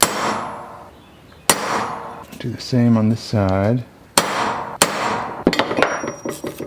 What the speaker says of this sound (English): I'm going to mark my little centers with this center punch.